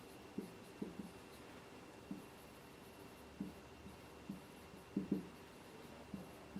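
Writing on a classroom board, a faint series of short scratchy strokes in irregular bursts, some clustered close together, over a quiet room hum with no talk.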